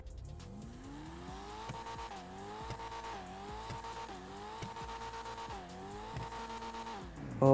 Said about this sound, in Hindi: चलो अब हम इस कार का साउंड और इस कार की टॉप स्पीड को टेस्ट करते हैं।